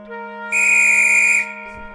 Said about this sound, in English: that's our conductor's whistle